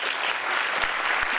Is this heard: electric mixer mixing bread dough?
no